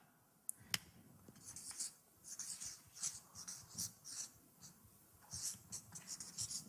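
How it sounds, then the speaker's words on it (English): Marker or chalk strokes scratch across a board as a word is written, producing a series of short, quiet scraping bursts in an uneven rhythm, close to the microphone with no talk. "I'll write it up here."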